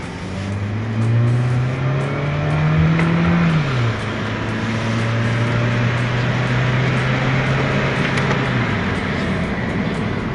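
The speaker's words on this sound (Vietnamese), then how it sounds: "Bây giờ tôi sẽ tăng tốc xe để mọi người thấy được rằng là khi mà tôi tăng tốc xe có yếu hay không" A Mitsubishi Xpander accelerates from inside the cabin, its engine note rising through a gear, dropping at a shift, then climbing steadily again over road and wind noise.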